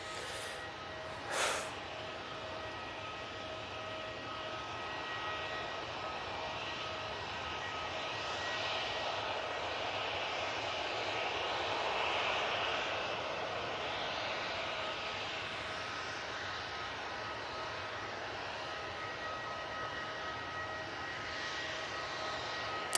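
A jet airliner departs to the north, its steady broadband engine roar sustained and fairly even throughout, with a brief sharp click near the start and no voices.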